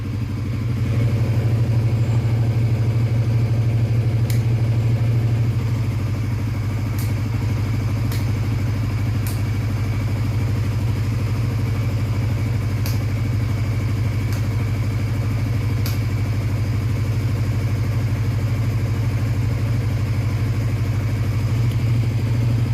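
A motorcycle engine idles steadily and loudly nearby, a low even throb with faint occasional clicks over the top, running throughout without pause.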